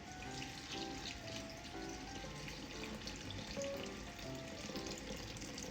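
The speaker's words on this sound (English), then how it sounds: "we're gonna go in with 900 grams of warm filtered water" Warm filtered water is poured into a stand mixer bowl for a triple batch of sourdough. It makes a quiet, steady, continuous trickling splash with no voices.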